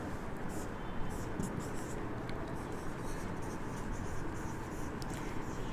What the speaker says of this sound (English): I write it on the board.